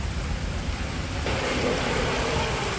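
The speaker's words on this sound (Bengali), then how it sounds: "বলতে বলতে বৃষ্টি নেমে গেছে।" Outdoor rain begins as a dense, even hiss that swells noticeably partway through and then holds steady and fairly loud, with no voices.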